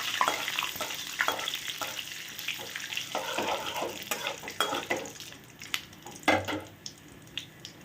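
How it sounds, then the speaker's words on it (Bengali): Cumin seeds with a whole dried red chilli and bay leaves fry steadily in hot oil, a continuous close sizzle broken by repeated scrapes and clinks of a spatula stirring in the pan, with no talking. "আমার জিরেটা খুব ভালো করে ভাজা হয়ে গেছে"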